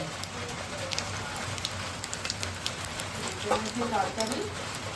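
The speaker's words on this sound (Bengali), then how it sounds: "বৃষ্টিও শুরু হয়ে গেছে" Steady rain patters on a surface with scattered crisp drop ticks, while a voice speaks briefly in the background.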